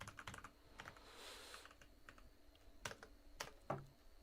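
Typing on a computer keyboard while building a website clone: quiet, close key clicks come in irregular bursts with brief pauses between keystrokes.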